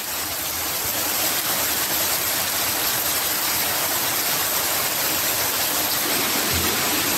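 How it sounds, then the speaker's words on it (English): Steady heavy rain falls continuously, a dense broadband hiss that stays loud and even throughout with no voices over it. "lots of rain, rain, rain"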